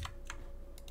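A single quiet keypress on a computer keyboard, a faint short click and a softer second tap, with no voices.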